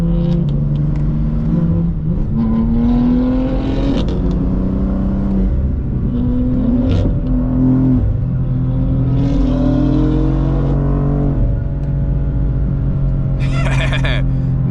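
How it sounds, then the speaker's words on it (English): A manual BMW G80 accelerates hard nearby, its engine note climbing through rising revs with shifts and drops in pitch, a loud continuous rumble with people talking over it. "G80 was coming in hot"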